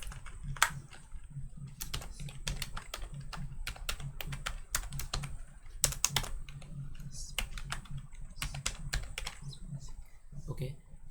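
Typing on a computer keyboard while entering text in Microsoft Word 2007, irregular bursts of close, crisp key clicks with short pauses, fairly quiet with low room hum underneath.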